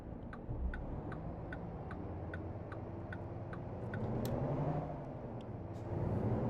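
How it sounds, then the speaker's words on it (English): Steady low engine rumble of a truck in American Truck Simulator, droning continuously throughout with a regular faint ticking, like a turn signal, repeating over it. "I can actually hear this truck, like it's got sound."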